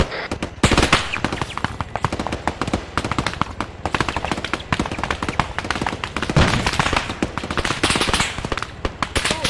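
Dense, sustained automatic gunfire in an Arma 3 military-simulation firefight, with rapid bursts and sharp cracks filling the whole stretch at close range, loud and nearly continuous.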